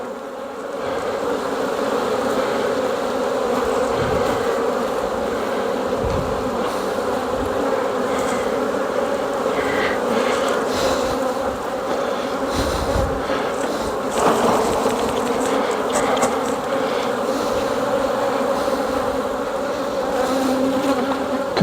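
Dense, steady buzzing of many honeybees around a hive close by, a continuous droning hum with no voices.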